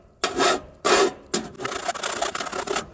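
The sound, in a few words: hand file filing a burr off metal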